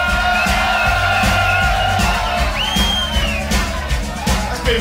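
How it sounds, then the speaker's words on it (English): A live concert audience cheers and shouts on cue at a rock gig, a sustained roar of crowd noise with whoops and yells over a low band rumble. "give a big cheer"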